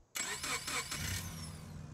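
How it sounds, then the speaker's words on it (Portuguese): A modded car in BeamNG.Drive cranks and fires up in a short burst of pulsing starter turns, then settles into a steady idle, close and fairly loud with no talking. "Vamos dar uma olhada no barulho do nosso motor"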